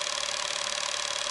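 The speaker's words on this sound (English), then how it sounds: "that flicking sound you hear is the frame shutter" Shutter and film-winding mechanism of a Sankyo EM-60 Super 8 cine camera running, a steady, fast mechanical whir with a rapid, even flicker, loud and close with no voices.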